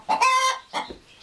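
Hens in a chicken coop giving a few short, close clucks and a drawn-out squawk in quick succession, loud and alone over a quiet background.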